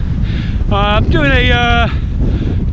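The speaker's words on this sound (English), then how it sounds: "As you can probably hear, it's super windy." Heavy wind buffets the microphone with a constant low roar during a bike ride in Gloucestershire, while a person speaks briefly over it.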